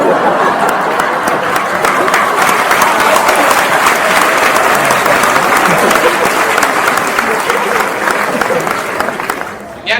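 An audience at a mentalist's stage show claps loudly and continuously for about ten seconds. The applause is dense and steady, with faint crowd murmur underneath, and it tapers off at the end.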